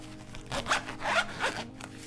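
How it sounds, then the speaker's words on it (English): A fabric pencil pouch with a small handle is zipped shut in a few quick, close rasping strokes, crisp and clear against a quiet room. "Check to make sure it zips up."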